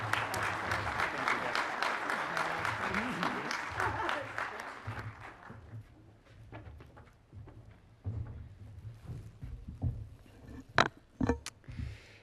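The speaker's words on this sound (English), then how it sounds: "Let's give her a big round of applause." Conference audience applause at an innovation summit, a dense sustained clapping that thins out into scattered individual claps and fades toward the end, with no talk over it.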